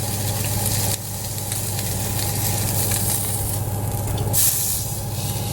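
A pork chop sizzles loudly in an oiled grill pan on an indoor stovetop after being flipped, a dense continuous hiss that briefly dips and then swells again near the end, with no talking.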